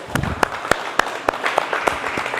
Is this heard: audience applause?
yes